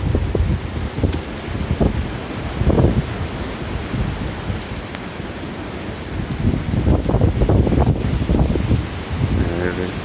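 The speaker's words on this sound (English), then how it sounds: "these are definitely the gusts they're talking about" Strong wind gusts during a heavy rain storm in New York City, rising and falling in surges over steady rain with loud microphone buffeting and brief talking.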